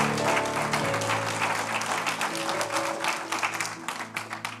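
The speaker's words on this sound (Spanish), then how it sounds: "Dele un aplauso al Señor." A church congregation claps in sustained, dense applause that tapers toward the end, with a faint sustained tone, likely music, underneath.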